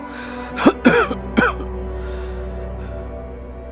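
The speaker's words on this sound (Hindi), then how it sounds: "आजकल तुम कुछ ज्यादा ही खांस रहे हो" A person coughs three times in quick, harsh bursts, close and clear, followed by a quiet background hum.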